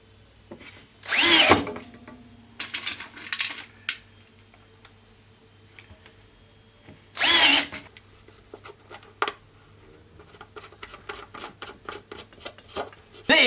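Power drill driving screws into timber strapping while building a plant pot heater, several short bursts of whirring with two louder, longer runs, plus scattered ticks and handling clatter, no talk.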